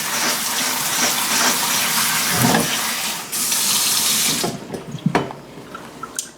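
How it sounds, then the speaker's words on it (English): Tap water gushes loudly over boiled red potatoes in a strainer, rinsing off starch, then cuts off, leaving drips and a few clatters. "you're going to want to run a little water to rinse off all the starch"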